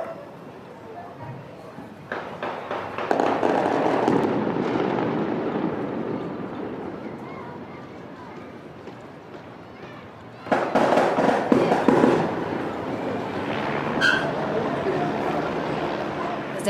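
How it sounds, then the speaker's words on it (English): Gunfire cracks out in a street during unrest, sharp popping bursts scattered over a dense noisy ambience, with a louder volley arriving midway. "Suddenly, gunfire erupts in the street outside."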